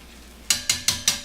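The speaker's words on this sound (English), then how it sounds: "So I'm just going to give this a little stir." Apple and onions frying in a pan are stirred, giving four evenly spaced scraping clanks in close succession over a soft sizzle, with no talking.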